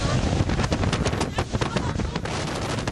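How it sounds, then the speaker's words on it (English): Wind roars at an observation deck in New York City during a windstorm, a dense broadband rush with gusty crackling buffets battering the microphone throughout, loud and unbroken. "That is the sound of a windstorm at the observation deck in New York City."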